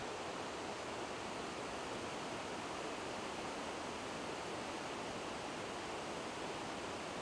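Victoria Falls, where the Zambezi River plunges 110 metres over a 1.7-kilometre-wide edge, heard as a steady, dense roar of falling water with no break or voices.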